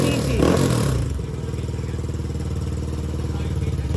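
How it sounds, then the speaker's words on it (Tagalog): A Yamaha Aerox V2 scooter with a 195cc engine idling after a cold start, a steady close mechanical putter with a rougher, louder burst at the start. "Tahimik ang engine."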